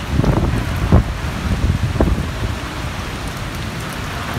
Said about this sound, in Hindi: ओ भाई, बड़ी ज़बरदस्त बारिश होती हुई।